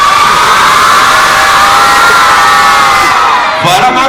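A large crowd of children cheering and shouting for Chhota Bheem at an animated film trailer launch, a loud continuous roar of high voices with whoops rising near the end.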